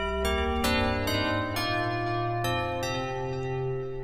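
Rich wavetable synthesizer notes ring out one after another, each struck sharply and sustaining with bright, layered harmonics, loud and up close with no talking.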